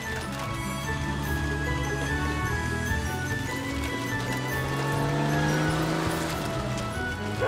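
A cartoon car accelerates, its engine a continuous rumbling hum with a rising whine midway, steady and fairly close, with no talking over it.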